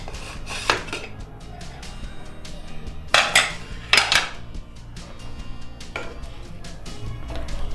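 A pressure cooker being opened after cooking bajra khichdi, with several sharp metallic clinks and clatters of the lid and pot, clustered in bursts against a quiet kitchen background.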